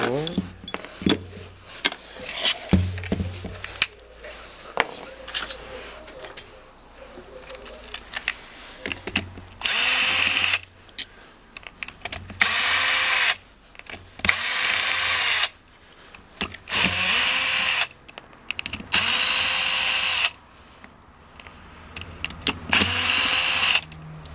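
An Aimsak AI618L1 cordless drill whirs in several short bursts of varying length, separated by clicks, handling noises and occasional speech.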